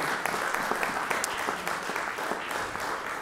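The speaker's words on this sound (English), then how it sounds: "I would ask you to give him a round of applause" Applause for the city's mayor at a press conference on COVID relief in Paterson, New Jersey, a short stretch of steady, close crowd clapping with sharp individual claps.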